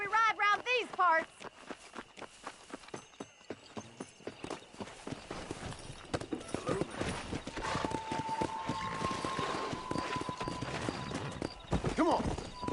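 Horse hooves clip-clop in Red Dead Redemption as a rider sets off, a quick rhythmic trot of close hoofbeats with a whinny near the start and talk over parts of it.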